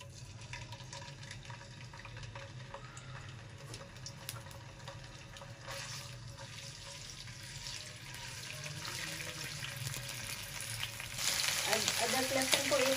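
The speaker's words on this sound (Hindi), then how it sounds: "अदरक लहसुन को 1 मिनट हो गए हमें फ्राई करते हुए" A spoonful of ginger-garlic paste fries in about 125 grams of oil in a karahi, sizzling steadily and growing louder and more crackly toward the end.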